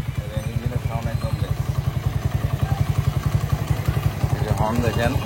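A Walton 110cc motorcycle engine runs at a steady idle with an even, rapid thumping beat, heard up close with a voice talking over it.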